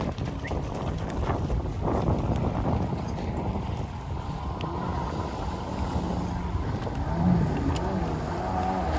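Jet ski engine running a slalom course at a junior national event on open water, a steady motor drone with wind noise and water splash throughout, no talk.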